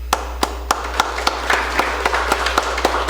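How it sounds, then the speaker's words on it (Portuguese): Slow, evenly spaced handclaps in a municipal council chamber, roughly three per second, over a constant low electrical hum and a faint wash of further clapping. "Então nós precisamos aplaudi-lo nessa noite."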